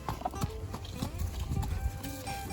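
Horse hooves clip-clopping and splashing through a large puddle on a sunny hack, close and irregular, with a few faint voices in the background.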